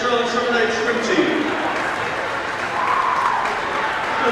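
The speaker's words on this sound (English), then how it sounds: "So you put your hands together for Coach Stewart and the Sterling Summer Night swim team." A gym crowd applauds the coach and the swim team at a school basketball game, a broad, steady wash of clapping from a distance mixed with the murmur of the crowd.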